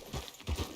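Horse hooves clip-clop in Red Dead Redemption 2, two soft paired thuds of a walking gait, close and fairly quiet.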